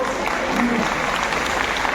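Audience clapping at a Devanga community talent award ceremony, a steady dense wash of applause filling the whole stretch at even loudness.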